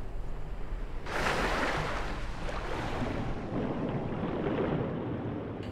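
Rushing river water in Sekiro swells up suddenly after about a second and holds as a steady, broad wash of flow that then slowly fades, with no talking over it.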